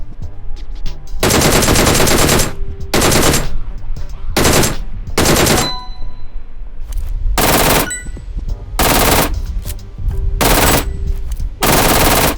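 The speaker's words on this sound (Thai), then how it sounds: "ฝึกยิงดักล่วงหน้า" M16 rifle fire in the PUBG Mobile video game comes as a series of loud, sharp automatic bursts, each lasting about half a second to a second, separated by short pauses. The bursts repeat steadily through the whole stretch.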